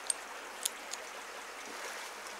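Flowing water of the Klukshu River in Yukon, Canada, at a salmon counting station: a soft, steady rushing wash with a few faint ticks and splashes, quiet and continuous throughout.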